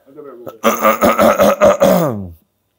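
A harsh, raspy throat clearing with a rough, voiced rumble lasting about two seconds, close and loud.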